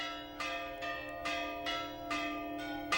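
Church bells ringing in Astrakhan, Russia, a bright repeating peal with strikes about every half second, each ringing on under the next, clear and close with no talk.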